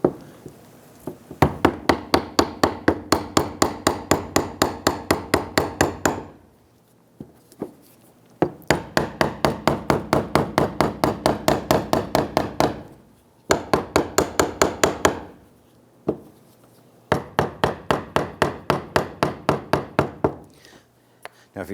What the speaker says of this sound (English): you can use the block again to go ahead and lock down that collar